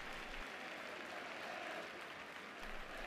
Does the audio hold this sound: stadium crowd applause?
yes